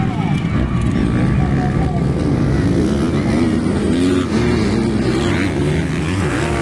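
Racing motorcycle engines in a 250 expert-class race scream loud and sustained at high revs, with excited commentary and crowd shouts layered over them throughout.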